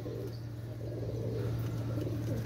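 Male Pakistani Rampuri and Royal Teddy pigeons coo low and steadily at close range, a soft continuous rolling murmur with no talk.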